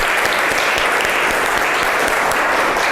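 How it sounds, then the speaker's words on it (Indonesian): A classroom of students in an Indonesian school lesson claps together, a dense, steady, fairly loud wash of hand claps lasting the whole stretch without pause. "Tepuk tangan untuk kita semuanya."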